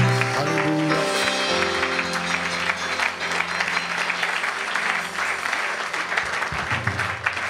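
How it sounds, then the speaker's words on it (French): Church congregation applauding and cheering for Jesus during a service, sustained loud clapping and crowd noise with music underneath throughout. "Acclame-le très fort, acclame Jésus"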